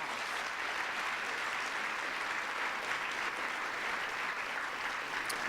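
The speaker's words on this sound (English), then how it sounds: "Let's give them all a big round of applause." An audience of students and guests gives a big round of applause at a First Lady Michelle Obama event on education, a continuous, even roar of many hands clapping that fills the room without letup.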